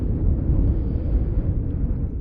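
Outdoors along an abandoned railway right of way in northern Arizona, wind buffets the microphone with a continuous low, rumbling roar that swells and dips throughout.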